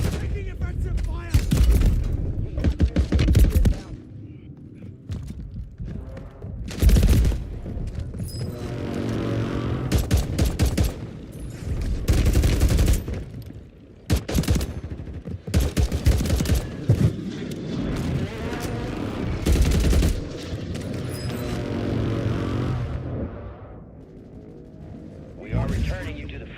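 Bursts of gunfire and explosive booms in the Warzone battle royale, scattered shots and rattling volleys mixed with game mechanism clicks, loud and intermittent, with voice announcements between the shots.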